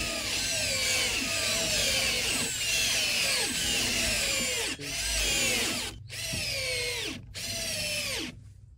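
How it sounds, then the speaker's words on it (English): Cordless drill drivers from Milwaukee, Bosch and Hyper Tough drive screws side by side, each burst a loud whirring whine that slows as the screw seats, repeated in overlapping cycles, with brief gaps between the final screws. "we're going to drive in 10 of these screws with each drill side by side"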